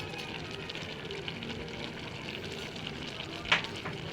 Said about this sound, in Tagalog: ilagay na natin ang ating dilis na piniriting dilis